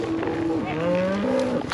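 Cattle moo on a cattle drive through the Black Hills, a few drawn-out tonal calls in close succession against a steady outdoor background.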